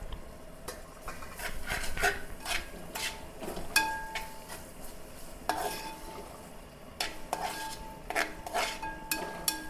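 Tomatoes tipped into a pan of sautéed onion, green chilli and ginger, with repeated sharp spoon scrapes and clinks against the pan over a low sizzle, coming in irregular bursts.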